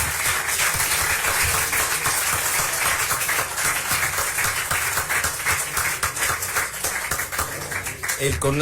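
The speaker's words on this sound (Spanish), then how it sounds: "Demos pues un fuerte aplauso" A lecture audience gives strong, sustained applause after a keynote talk on the history of tequila, a thick, continuous wash of many hands clapping at steady loudness throughout.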